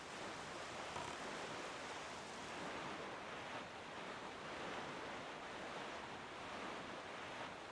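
Steady ocean waves and rushing wind from The Legend of Zelda: Wind Waker, a continuous even wash of surf noise at low level with no voices.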